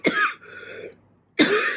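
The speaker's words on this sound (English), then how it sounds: "Damn, this dry cough." Two harsh, dry coughs from one person, close and loud, separated by a short rasping breath and a brief silence.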